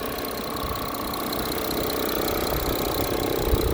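A diesel Audi A6 Avant Quattro 45TDI S-Line sits idling with the bonnet open, a steady, even hum with light knocking texture that holds constant throughout, close and alone without voices.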